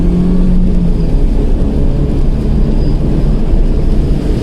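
Mini Cooper S R53 accelerating hard during a 30 to 70 drag run, a loud continuous engine roar heard from inside the car, steady throughout with no talking.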